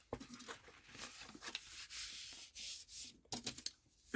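Cardboard being folded for a desk storage box, producing dry scraping and rubbing bursts with short creases and brushes, close and fairly quiet, ending in a sharp knock, with no voices.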